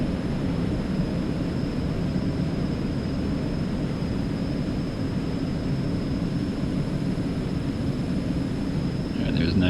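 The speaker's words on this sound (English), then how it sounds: "Right, takeoff power is set." Twin jet engines of an Eclipse 550 at takeoff power in X-Plane 11 give a steady, loud, continuous roar with a faint high whine, unbroken throughout.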